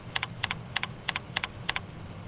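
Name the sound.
typing a name on a computer keyboard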